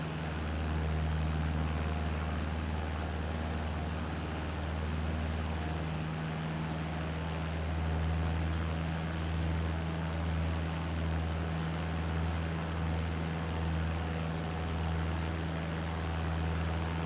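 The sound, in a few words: small aircraft engine noise in flight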